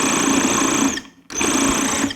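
A food processor pulses a pie bar crust mixture of chocolate and pecans, two loud grinding whirs about a second each, split by a short pause, close up with no talking.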